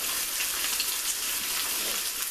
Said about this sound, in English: step 1 is pretty much cook up the bacon until it's crispy